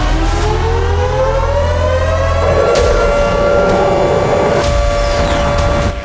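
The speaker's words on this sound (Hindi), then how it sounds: "कीव में खतरे का सायरन गूंजने लगा।" A civil-defense air raid siren wails over Kyiv at 2 a.m. during a drone attack. Its loud, steady tone rises and then holds, filling the night air with no voices.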